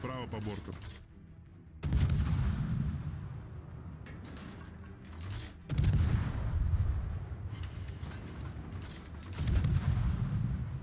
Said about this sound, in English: look at this poor Kleber, just all the focus fire